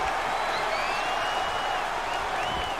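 A steady roar of crowd cheering and applause at a wrestling show in London fills the video game scene, with whistles and rising shouts on top and no pause throughout.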